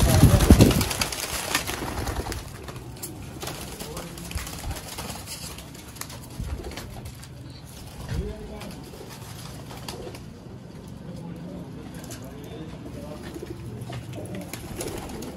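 Baby pigeons coo softly and repeatedly in the background after a brief loud burst at the start, with faint rustling and occasional low murmurs throughout.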